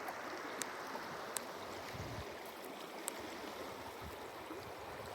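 A muddy, rocky stream on the Paria River Trail in Arizona rushes in a constant, even wash of flowing water, with a few faint clicks and splashes scattered through it.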